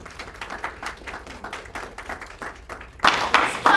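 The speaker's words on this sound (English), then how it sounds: "Now let's give them all a round of applause" An audience at a tech day celebrating girls in technology claps in separate, spaced hand claps that suddenly swell into louder, fuller applause near the end.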